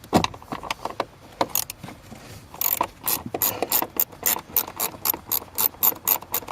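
A hand ratchet works loose a 10mm nut under a car's footwell, near the pedal, giving a run of quick, close clicking bursts in an uneven rhythm with no talk.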